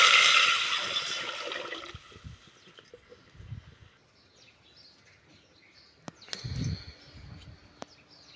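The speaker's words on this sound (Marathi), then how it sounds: "एक तांबे पाणी ओतून घेऊ." A potful of water pours loudly into a pan on a wood-fired stove, a rushing gush that fades within two seconds, followed by quiet outdoor ambience with bird chirps and a few clanks.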